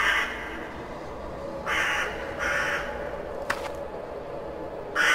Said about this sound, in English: now the crows are biting me